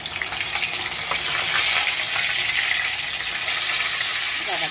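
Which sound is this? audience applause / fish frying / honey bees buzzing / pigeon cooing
fish frying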